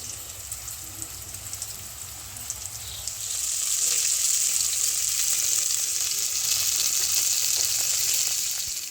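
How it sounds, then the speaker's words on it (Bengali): Loud, continuous sizzling of vegetables frying in hot oil, growing stronger partway through and holding a steady crackling hiss. "আমি ভাজাভুজিগুলো করে নিই"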